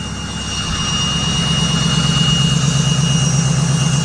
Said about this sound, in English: we were waiting for the high idle to kick on